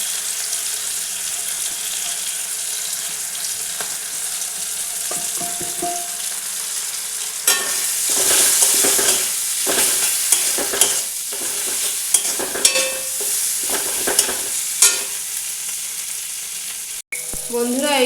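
Ground turmeric, Kashmiri and hot chilli, coriander and cumin frying in a pan, a steady sizzle with repeated scraping and clattering stirring strokes, close by, plus a brief splash of running water.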